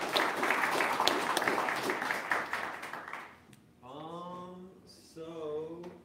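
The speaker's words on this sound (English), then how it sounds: "Let's give them a round of applause." Audience applause at an Ethereum developer meetup in Boulder, a dense wash of clapping lasting about three seconds and fading out, followed by someone speaking alone.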